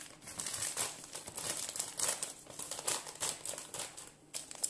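A bag of flakes crinkles and rustles up close in irregular bursts as they are poured into a mix, with no voices over it.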